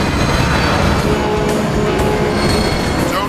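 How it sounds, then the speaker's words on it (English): A train rushes past in Transformers: War for Cybertron, a loud, steady metallic rumble with rail clatter and faint wheel squeal that fills the whole moment. "Don't get hit by the train, you fool!"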